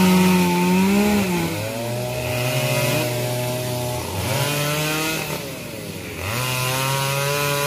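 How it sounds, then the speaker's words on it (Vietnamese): A chainsaw cuts into the trunk of an old tamarind tree, its engine loud and close with pitch rising and sagging as the bar bites and eases, three strong load cycles over the run. "Me của anh Văn thì đã cưa gần tới gốc rồi, khá là nhanh"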